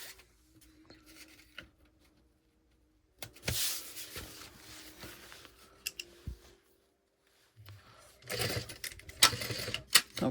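A sewing machine stitches a backpack lining in two bursts of mechanical whirring and clicking, separated by quiet pauses, close and fairly loud with no voices.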